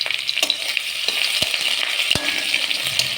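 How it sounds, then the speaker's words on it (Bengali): Chopped onion and crushed garlic fry in a hot pan with a steady loud sizzle, broken by a few sharp scrapes and knocks of stirring, with no voices. "আর একটু নেড়ে দিই পেঁয়াজ রসুনটা"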